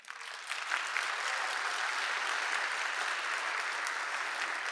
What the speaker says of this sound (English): let's give one more hearty round of applause for our speakers today